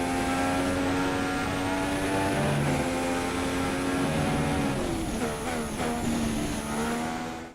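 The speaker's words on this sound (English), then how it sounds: "this buzzing sound that I kept on hearing in the car" A steady high-pitched buzz and whine from a Formula One car in the F1 2016 racing video game sounds loud and continuous, with the engine note rising and shifting through gear changes over several seconds.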